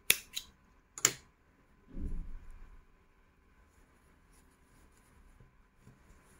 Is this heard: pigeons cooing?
no